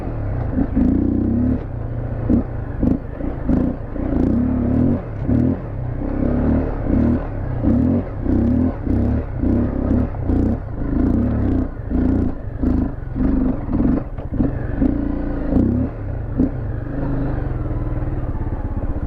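A Honda CRF 250L motorcycle engine labours up a hill in second gear, a steady close rumble with uneven throttle blips and clutch slipping throughout.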